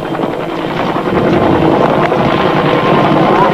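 Steady, loud rotor and engine roar of a South Vietnamese army helicopter circling overhead during the Vietnam War, continuous throughout with some wind buffeting, no voices.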